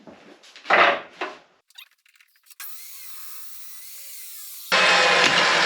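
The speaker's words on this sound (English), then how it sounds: "Now we're going to go over to the table saw and just cut about a 3/4 of an inch strip out of this guy" A table saw rips a strip about three-quarters of an inch wide from a block of cherry wood. After a few faint clicks, a steady whirring cut starts and then grows louder and harsher near the end, with no talking.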